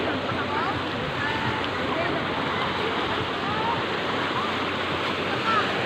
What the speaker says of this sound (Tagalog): Ayan, ang ganda talaga ng alon.